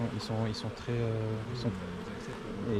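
Dense, close buzzing of many honeybees at a hive, a continuous droning hum with shifting pitch and a few brief voices nearby.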